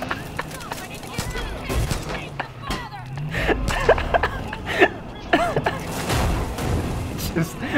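Several sharp gunshots crack out irregularly, some in quick bursts, mixed with people talking and exclaiming over them.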